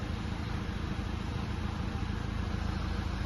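Mercedes C250 diesel engine with a failed DPF pressure sensor, running close by with a steady, dense rumble as the revs are held up, no voices.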